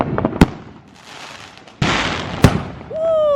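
Fireworks set off on a street during a Fourth of July night, sharp close bangs and crackling bursts separated by short gaps, ending with a rising whistle, with no speech heard.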